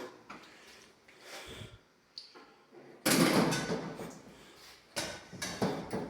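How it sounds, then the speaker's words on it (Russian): A door fitted with an electromechanical lock and card reader clicks and swings open, with a few soft mechanical knocks and rattles followed by a louder burst of door movement and latch noise at close range. "Все, дверь открылась."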